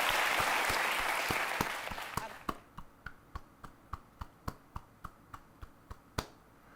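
A talk show audience applauds in a full wash of clapping that dies down after a couple of seconds, leaving a few slow, isolated claps spaced out at a steady rhythm.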